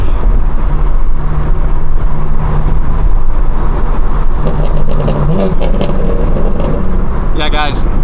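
A BMW M car, a G80 at an M meet, revs loudly and close by with quick throttle blips on downshifts, rising pitch bursts over a steady engine rumble, while other cars and voices mingle in the background.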